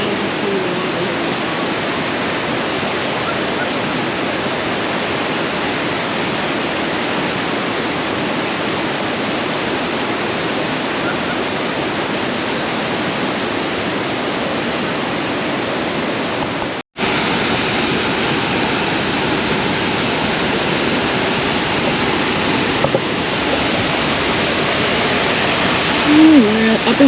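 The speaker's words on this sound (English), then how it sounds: "We're at Upper Falls now, and Upper Falls is 48 feet high, and the river here is 200 feet wide." Tahquamenon Upper Falls, a 48-foot waterfall on a 200-foot-wide river, roars as a steady, dense broadband rush, loud and continuous throughout with a brief cut partway through.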